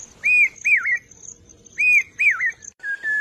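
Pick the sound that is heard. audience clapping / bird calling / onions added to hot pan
bird calling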